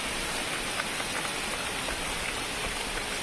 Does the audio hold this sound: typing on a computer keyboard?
no